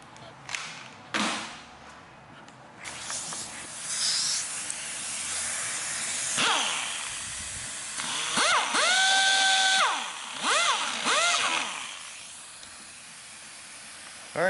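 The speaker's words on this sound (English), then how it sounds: "we'll just get in here and deburr everything" A power tool deburrs the injector ports of a Holley Dominator carbon intake on a 2020 C8, whirring and hissing in bursts, with shifting high whines rising and falling as the bit works the material.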